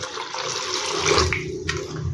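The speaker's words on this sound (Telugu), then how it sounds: "ఇందులోకి 1/2 లీటర్ వాటర్ పోసుకోవాలి" Water pours and splashes into a container of curd in a steady, close stream, with a few small clinks near the end.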